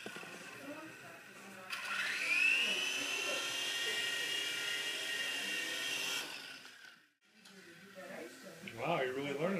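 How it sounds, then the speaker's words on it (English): A small toy helicopter whirs with a steady high-pitched buzzing motor for several seconds, cuts out abruptly, and then voices start talking. "A mini helicopter."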